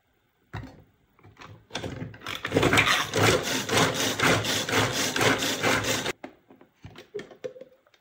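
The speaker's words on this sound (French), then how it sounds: "je vais hacher l'oignon comme ça" Onion being chopped in a small hand-operated chopper, a few scattered clunks then a dense, rapid grinding-chopping run lasting several seconds, ending abruptly with a couple of light knocks afterward.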